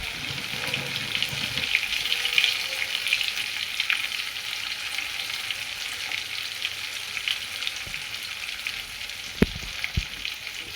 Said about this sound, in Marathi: आता आपल्याला ह्याच्यामध्ये एक एक करून ही आपली भरलेली वांगी सोडायची आहेत